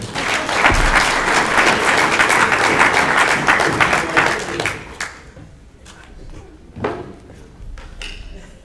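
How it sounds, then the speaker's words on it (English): Congregation at an Anglican diocesan synod afternoon session applauds loudly for about five seconds, then the clapping fades out into room noise, with a few scattered knocks and thumps afterward. "Please clap for him."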